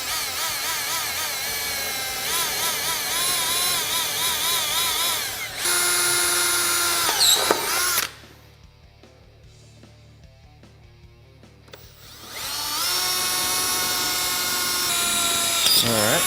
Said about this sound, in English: so we got all our holes drilled there